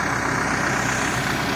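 A dusty tractor engine idling at a roadside field, a steady low rumbling drone with an even mechanical pulse, close and unchanging for the whole moment.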